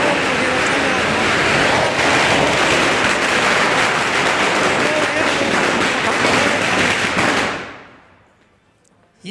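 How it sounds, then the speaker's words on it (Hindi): Firecrackers at a farmers' Diwali celebration burst in a dense, continuous barrage of loud crackling pops that carries on for several seconds, then quickly dies away into near quiet. "अभी पटाखे बहुत अच्छी तरीके से फूट रहे थे।"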